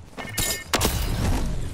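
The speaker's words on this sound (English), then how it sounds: "I hear gunshots over here, Jacob." Gunshots ring out in a Fortnite match, two sharp cracks a moment apart over a rumbling game background.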